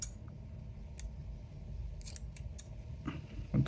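Scissors snip through a paper planner sticker in a few quiet, separate cuts, close up, with no talking.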